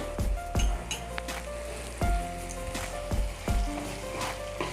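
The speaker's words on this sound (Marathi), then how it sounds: "हे मसाले ना सर्व असं छान भाजून घ्यायचे आहेत" Ground spices and red chilli powder roasting in hot oil for misal, a steady close frying sizzle broken by a few sharp stirring clatters, with no talk.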